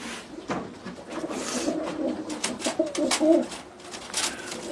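Pigeons coo repeatedly nearby, low throaty calls overlapping in a loose rhythm alongside soft rustling and wing flutters.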